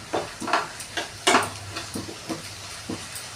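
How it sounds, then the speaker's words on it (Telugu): A spoon scrapes and clanks in a cooking pan as spiced ingredients with cumin powder, garam masala, salt, ginger and garlic are stirred and mixed, giving a run of irregular close metallic taps and scrapes. "ఇప్పుడు అన్నిట్లో ఇలా కలుపుకోవాలి"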